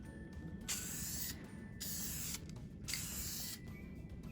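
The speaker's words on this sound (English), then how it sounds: "Now for a little bit of clear coat, just a little lacquer." Clear coat lacquer is sprayed onto a laser-made ornament in several hissing bursts of about a second each, separated by short pauses, close and fairly quiet.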